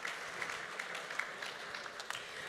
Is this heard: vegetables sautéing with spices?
no